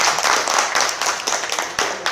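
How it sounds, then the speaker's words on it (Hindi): An audience at a sales training session gives a short round of applause, with close, dense hand clapping that comes in quick bursts and stays fairly loud throughout. "तालियां इसके लिए, एक बार तालियां"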